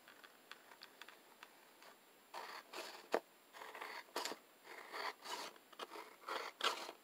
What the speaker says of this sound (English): Going to just cut along that outside edge, around the curve.